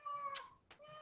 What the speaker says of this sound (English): I'm sorry about my cat, she's coming to visit